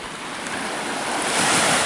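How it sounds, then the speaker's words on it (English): A small ocean wave breaks and washes onto a Jamaican shore, a steady broadband surf hiss swelling louder toward the end, with some wind buffeting the microphone and no voices. "When you get a little wave like that"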